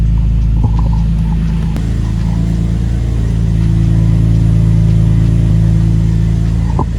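A loud, close car engine runs steadily throughout, a low droning rumble with slight revving and no talking; the car is in neutral with its wheels still spinning.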